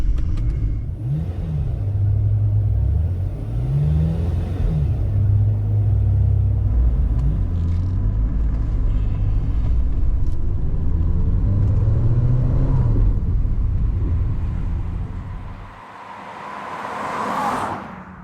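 A Maserati Shamal sports car's engine rumbles and revs through several gear changes, pitch rising and falling as it accelerates, then a brief lull before revving again.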